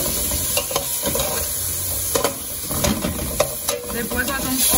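Shrimp, pink and orange, fry and get stirred in a pan for creamy shrimp rice, a constant hiss and sizzle broken by repeated scraping and clacking stirs, with no talk.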